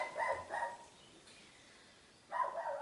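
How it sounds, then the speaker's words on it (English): A dog barks twice in quick succession, then a pause before another burst of barking; fairly distant, with no talking. "Apologies about barking dogs, they always do this when I start to record."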